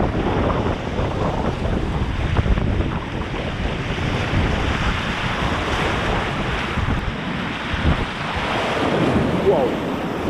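Waves slap and wash against the bow of a Pyranha Scorch Medium kayak out on open water, a continuous close splashing roar mixed with heavy wind buffeting the microphone, with brief excited voices.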